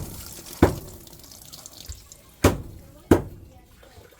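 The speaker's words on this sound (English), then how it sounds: "Also the running water here." Tap water running in an indoor kitchen built in outdoor style, a steady faint wash of flow broken by three sharp knocks or clatters, with some background voices.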